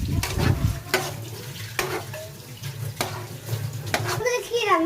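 Crab brains and ginger paste are stirred in a hot frying pan, giving spaced, scraping spatula strokes over a low, continuous sizzle, close and fairly loud.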